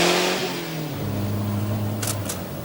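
A Saab Turbo car's engine pulls steadily from inside the cabin, a mid-pitched drone rising and then holding as the car accelerates, with a few faint ticks near the end.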